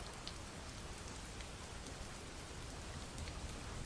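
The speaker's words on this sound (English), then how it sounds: "Why is it always raining?" Steady rain falling in a gloomy setting, a constant soft hiss of drops on surfaces with no breaks, fairly quiet and even from start to finish.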